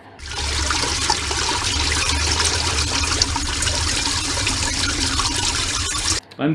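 Steady rushing water pours and gurgles continuously down a drainage drain fitted with a rat-blocking lock, loud and close, stopping abruptly near the end.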